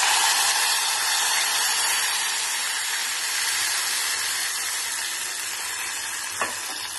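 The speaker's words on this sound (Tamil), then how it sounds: "இப்போ வந்து நம்ம இந்த புளி ஜலத்தை அதுல சேர்த்துடலாம்." Tamarind water poured into a hot pan of roasted spices for a tangy kuzhambu, giving a loud, steady hiss of sizzling and steam that slowly fades, with one small clink near the end.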